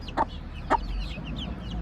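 A young Plymouth Rock rooster gives two short, sharp clucks about half a second apart, close and clear over a quiet farmyard background.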